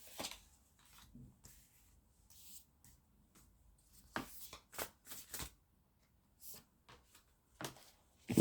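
Tarot cards are shuffled and drawn from the deck, quiet riffling and slapping bursts scattered across the moment with soft pauses between, close and faint.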